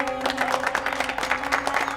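Clapping from a gathered crowd at a political rally, a dense, continuous patter of many hands held at a steady level for a couple of seconds.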